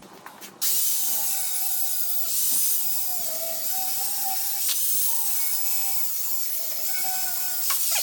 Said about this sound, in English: So let's get that pipe and cut it.